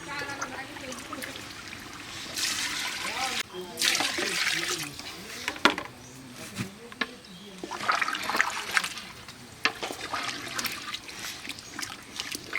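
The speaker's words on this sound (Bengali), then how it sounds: "এখন পানি দিয়ে দেব" Water pours into a pot of beef cooking for an Eid meal, a splashing, hissing rush in bursts beneath ongoing talk.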